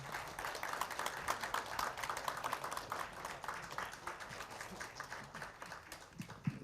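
An audience at a Seoul Doctors' Day ceremony applauds steadily, a dense, even wash of clapping from many hands heard at a moderate distance, with no one speaking over it.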